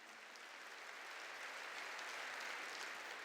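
A church congregation claps together during a sermon, a steady wash of applause that swells slightly and holds, soft and somewhat distant, with no voices over it.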